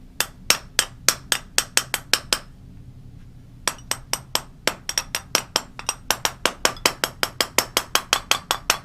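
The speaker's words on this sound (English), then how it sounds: "I'm hammering right on that seam" A hammer taps the seam of a fused kiln lid in quick, bright, ringing strikes, a dense run of sharp clinks with a short pause midway before the even tapping resumes, close and clear.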